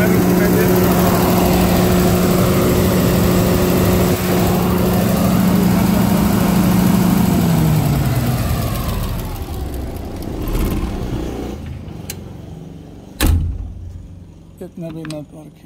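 A Mahindra Navistar 125 kVA diesel generator engine drones steadily and close by, then winds down and shuts off partway through, leaving scattered clicks and handling noises.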